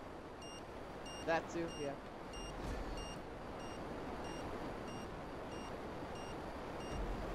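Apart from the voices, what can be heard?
warning beeps in video game GTA Online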